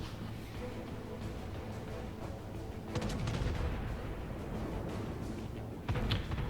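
Naval gunfire in the World of Warships Legends video game, with enemy ships opening fire on a contested capture point: a steady low rumble of distant cannon fire, swelling into heavier booming salvos around the midpoint and near the end.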